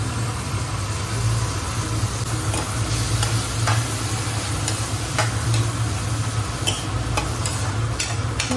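Fish sizzles steadily in hot oil in a home kitchen pan, a continuous close frying hiss with occasional light clicks and taps of stirring, no voices.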